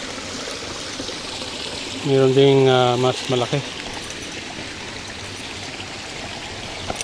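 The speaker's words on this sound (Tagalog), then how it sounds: "Dadaan na naman tayo ng ilog. Yan. May maliit" A small river at the foot of Mount Apo flows with a steady, close rushing wash, while a person speaks briefly partway through over the constant water.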